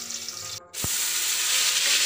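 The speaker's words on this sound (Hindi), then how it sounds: "अब हम इसको प्याज को जब तक फ्राई करेंगे जब तक ये रेड" Onions frying in a pot for beef nalli yakhni pulao, a bright continuous sizzle that briefly drops away then returns loud and steady, with a short knock near the start of the renewed frying.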